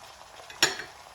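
A single quick scrape of a spoon through cabbage, green chili and green onion in a pan, one short stir with a faint sizzle, quiet and brief.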